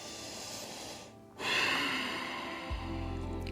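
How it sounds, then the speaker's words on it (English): Forceful ujjayi exhale pushed through the nose during a yoga vinyasa flow, a close breathy snort-like rush heard alone, with soft music coming in near the end. "keep that Ujjayi breath going if that makes sense. Snoring, exhaling sound. Breathe through your nose."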